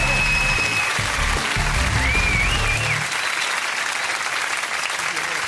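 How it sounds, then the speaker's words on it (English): Loud applause from a large TV studio audience at a comedy quiz show, dense and sustained, with a voice briefly over it near the start before the clapping carries on alone. "Round of applause."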